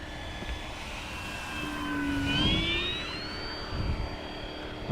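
An FMS 1700mm Corsair V3 RC warbird on 6s power, fitted with a new propeller, makes a fast full-throttle pass. Its buzzing propeller whine rises in pitch as it nears, then bends lower as it sweeps away.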